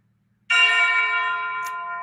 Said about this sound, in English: Are those bells?